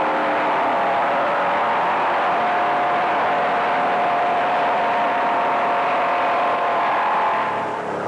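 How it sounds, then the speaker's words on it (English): 1957 NASCAR convertible race cars roar along the beach course at Daytona, Florida, a loud, continuous engine drone holding steady throughout without pause. "Here comes Myers, and there goes Weatherly into the lead"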